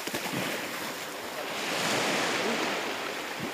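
Ocean surf at a Korean swimming beach patrolled by rescue crews: a steady, loud wash of breaking waves with gusty wind buffeting the microphone, continuous throughout and with no voices.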